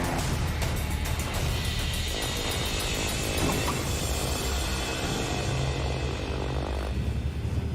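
A steady, loud propeller-airplane engine drone during landing, with broadband rumble and hiss, continuous throughout with no voices.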